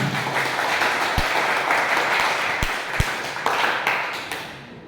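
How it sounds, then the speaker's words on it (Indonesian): Students in a classroom clapping together, a dense, even round of applause at close range with a few sharp knocks and taps standing out, tapering off at the end. "Tepuk tangan dulu"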